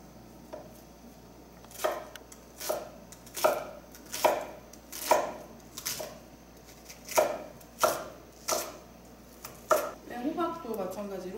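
A knife chops vegetables into 0.5 cm pieces on a cutting board while a yuni jjajangmyeon dish is prepared, giving about a dozen evenly spaced, crisp close chops, with a brief voice near the end.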